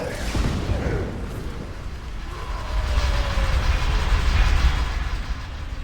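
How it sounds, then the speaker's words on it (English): A train in World of Warcraft rumbles past at steady, moderate loudness, a low continuous roar with faint rail clatter that swells toward the end before easing slightly. "There's a train coming"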